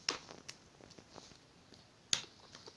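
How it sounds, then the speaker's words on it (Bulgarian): A brother clapping his hands, a few sharp isolated claps with a loud one near the end, quiet room otherwise. "Брат ми пляска."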